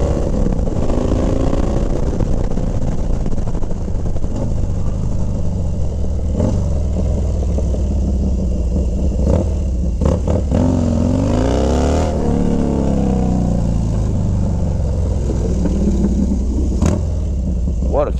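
A low-mileage 2001 Harley Davidson FXDXT Dyna Super Glide T-Sport motorcycle idling with a deep rumble, with a couple of rising revs near the middle, while someone talks over it.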